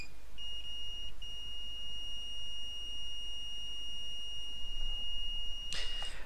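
A multimeter in continuity mode gives a long, steady high-pitched tone lasting about five seconds while testing fuses on a PS4 Blu-ray drive board, clear and close, with no talking over it.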